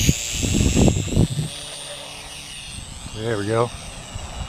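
A Harbor Freight P-51 RC model airplane flying outdoors during spring training, its electric motor whining steadily at a distance and then sweeping up and down as it passes. Someone talks briefly at the start.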